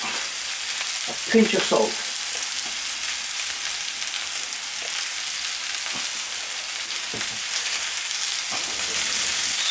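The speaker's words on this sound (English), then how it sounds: "As you can see, it's sauteing nicely and smelling good as well." Food sautéing in oil in a pan for a chilli paneer curry, a steady hiss and sizzle with a brief clatter of stirring early on, near and continuous while a voice briefly speaks.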